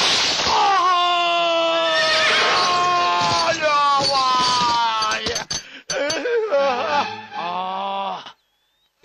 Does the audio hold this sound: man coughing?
no